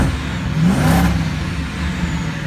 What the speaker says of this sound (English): A little bit of supercharger whine.